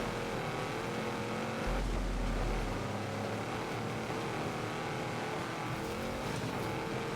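A 2019 Lamborghini Urus engine in Forza Horizon 4 roars steadily and loudly, with a deep surge partway through as the revs climb, then a continuous driving drone.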